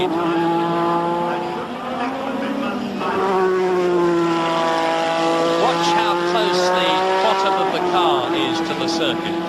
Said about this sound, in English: Mansell building up his speed